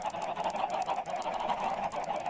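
A Minecraft chicken gives repeated nasal, honking clucks in an even, fairly rapid series, close and moderately loud with no talking.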